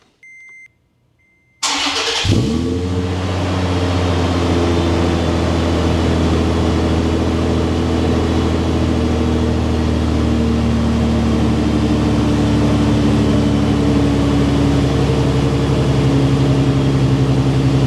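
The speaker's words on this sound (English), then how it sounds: "Now it's time for that wonderful cold start." A truck engine cold-starts from a jump starter, cranking briefly and firing up, settling into a loud, steady idle that runs on continuously after a short quiet start.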